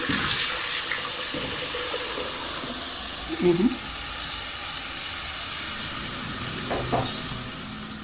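About a kilo of blended tomatoes is poured into a pan of cooking tripe, giving a steady wet sizzle and liquid splash that holds for several seconds, with a brief louder slosh partway through.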